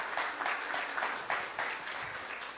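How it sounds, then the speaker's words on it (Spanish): Church congregation clapping in rhythmic bursts, steady and moderately distant, with no voices over it. "Den un aplauso al Señor porque somos parte de la iglesia."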